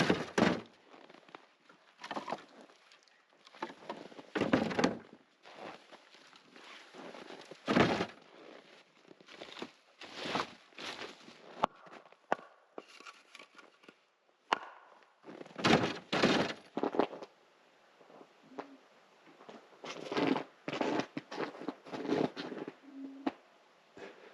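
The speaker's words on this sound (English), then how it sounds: "I'm going to load up our fire rack because we hit absolutely nothing this afternoon" Firewood loaded onto an indoor fire rack, heard as a series of irregular wooden knocks and thunks with scraping between them, close by, spread across a long stretch with pauses.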